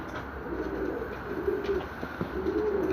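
Young racing pigeons coo softly as they arrive back at the loft after a 170 km race, their low, repeated calls steady over a faint outdoor background.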